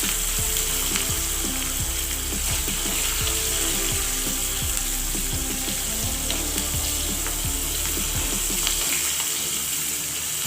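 A tempering of sesame seeds, curry leaves and green chillies sizzling in hot oil for dhokla, a continuous crackling sizzle with rapid spitting pops throughout, close and fairly loud.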